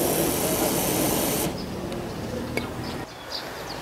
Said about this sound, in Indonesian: saya taruh api lalu saya semprot